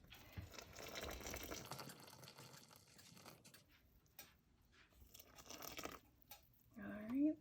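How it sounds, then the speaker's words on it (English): Water poured a cup at a time into a bowl of cornmeal and salt for Revolutionary War-era hoecakes, a soft gushing splash running under talk through most of the stretch, with stirring bumps and a sharp clink near the end. "the recipe says to add 1 cup of water at a time to the"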